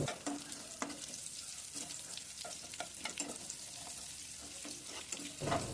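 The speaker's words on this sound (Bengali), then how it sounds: "পেঁয়াজটা একটু ভালো করে লাল লাল করে ভেজে নিতে হবে" Chopped onions frying in hot oil with whole spices, cinnamon, cardamom and bay leaf, for a Bangladeshi-style chicken roast, a steady close sizzle broken by repeated scraping stirs of a spoon in the pan, with no talking.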